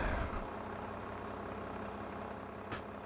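A farm tractor idles in Farming Simulator 22, a steady low engine drone running evenly throughout with a brief hiss near the end.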